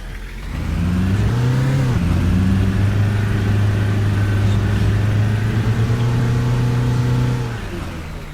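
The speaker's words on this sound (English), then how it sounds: "The poor little engine does sound like it's really, really trying hard here." A coach bus engine in the Fernbus driving simulator straining as it accelerates, a low droning growl rising in pitch, dropping briefly at a gear change, then climbing again before fading out, with no voices.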